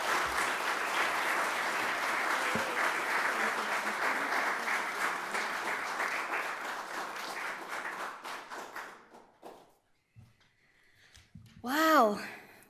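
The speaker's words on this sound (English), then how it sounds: "Let's give them all another round of applause." Sustained audience applause at a legal pro bono awards ceremony, dense steady clapping for about eight seconds that then tapers off, and a voice speaks briefly after it.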